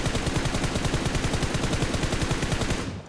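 Automatic gunfire in the mobile game PUBG Mobile, a loud rapid continuous burst of shots with tight regular rhythm lasting about three seconds, close and dense.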